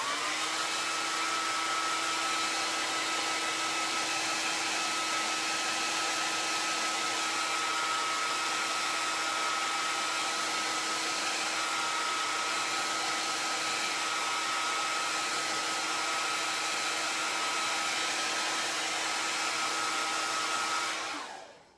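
A hair dryer runs steadily and loudly, close by, drying paint on a wooden unicorn horn, a continuous whooshing hum with a faint tonal whine that cuts off abruptly at the end.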